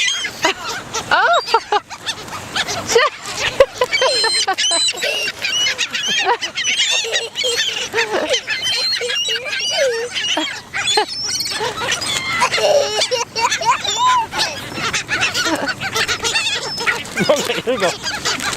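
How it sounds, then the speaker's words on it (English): Geese honk continuously and close as they are fed treats outdoors, a busy overlapping chorus of calls mixed with a child's and adults' voices. "You like feeding the birdies treats?"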